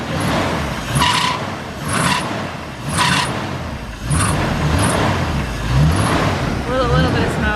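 A Chevrolet C10 truck's engine revs repeatedly on its first start, a rough and steady motor roar that swells in several bursts, with people talking over it.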